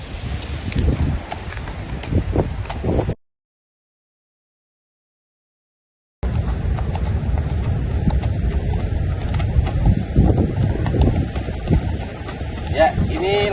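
A horse walks during a riding training session, its hooves thudding softly beneath wind buffeting the microphone, with a few seconds of total silence breaking the sound midway.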